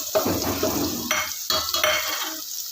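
Soybean chunks stirred into hakka noodles with cabbage in a pan, a spatula scraping and tossing in rhythmic strokes over a steady close sizzle.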